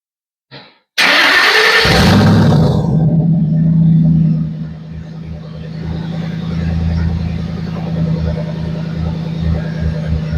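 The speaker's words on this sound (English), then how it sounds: "First thing we gotta do, start up the truck." An SVT Ford Lightning pickup truck cranks over with a short starter whir, then fires into a loud roaring start that settles after a few seconds into a steady, rumbling idle with a rhythmic low pulse.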